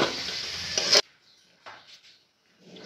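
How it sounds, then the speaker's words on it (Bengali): Potatoes and pointed gourd sizzle loudly in hot oil in a pan for about a second, then the sound cuts to near silence broken only by faint scrapes and clinks. "আর ওই তেলের মধ্যে দিয়ে দেবো পটলটা যেটা কেটে রেখেছি, যে পটলটাকে কষিয়ে নেব ভালো করে।"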